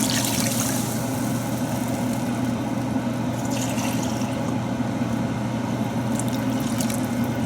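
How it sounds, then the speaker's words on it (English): Vegetable stock pouring into a soup pot, a continuous close liquid rush over a steady low hum, lasting several seconds with no speech. "I'm going to add the stock, the vegetable stock."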